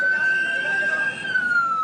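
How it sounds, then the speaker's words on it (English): Emergency sirens in the aftermath of the Sri Lanka Easter bombings, where ambulances carried the injured to hospitals: one steady, loud electronic siren tone holds throughout, sliding slowly downward under a dense wash of street noise. "Wave after wave of ambulances ferried the hundreds of injured to overwhelmed hospitals."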